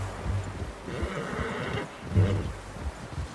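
A horse in the Red Dead Redemption 2 western game whinnies and snorts close by, with a second neigh following shortly after, heard alone without speech.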